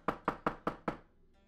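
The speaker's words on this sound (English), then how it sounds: "the emissary is banging on your door" Five heavy bangs on a door in quick, even succession, loud and close, then a quiet pause with no voices.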